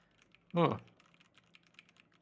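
A single short burst of key presses on a Varmilo Minilo 75 gasket-mounted wireless mechanical keyboard with fairly heavy actuation, close and clear, followed by quiet faint background noise.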